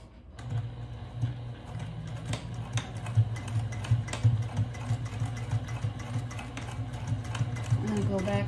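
A sewing machine stitches a tote bag seam at a 0.5 centimeter allowance, a steady, close mechanical whir running continuously with a rapid needle rhythm, with a voice speaking over it.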